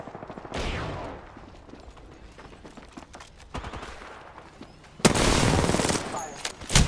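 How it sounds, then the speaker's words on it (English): Gunfire in the video game Apex Legends: bursts of rapid automatic shots, loud and close, with a dense sustained volley near the end, mixed with game effects and occasional voice lines. "The enemies are shooting at me."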